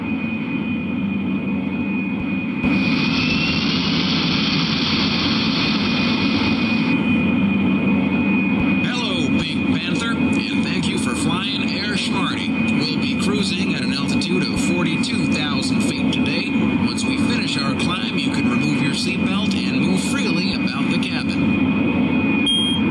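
Airplane taking off from a runway in the Pink Panther game Passport to Peril, a steady loud jet engine roar that swells as it rises, with a thin whine on top and a voice speaking over it.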